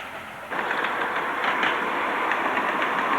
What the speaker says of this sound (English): There's a lovely loco from Cheshire.